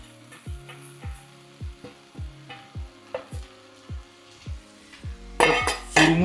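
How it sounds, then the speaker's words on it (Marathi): Soaked puffed rice is stirred in a hot pan with oil and salt, a spatula scraping and clinking in a steady rhythm over a soft sizzle, ending with a louder burst of frying. "आता मी त्याच्यात हे आपण ओले केलेले चुरमुरे ते टाकतोय"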